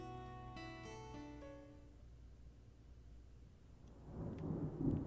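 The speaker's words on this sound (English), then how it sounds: "Thunder snow is coming." Low, rumbling thunder builds in the Deadly Premonition 2 video game, faint at first and swelling toward the end, beneath a fading sustained musical tone and with no talk.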